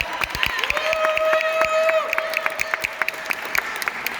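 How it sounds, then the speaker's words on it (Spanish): Audience at a Hispanic Heritage Month event at the New York Hall of Science applauds with scattered claps and a few cheers, while a sustained whistle or voice tone rises over the clapping through the middle. "Un aplauso para Marta."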